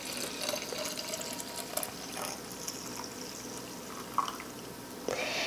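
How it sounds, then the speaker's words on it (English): Yogurt mixture is poured into a glass jar, a faint soft liquid trickle with light splashes and a small clink near the end, heard close and quiet. "You can take a glass jar and just pour that in."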